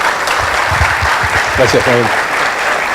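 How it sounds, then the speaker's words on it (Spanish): Strong audience applause welcoming a speaker at a university economics talk, dense clapping throughout with someone speaking briefly over it partway through. "lo recibimos con un fuerte aplauso"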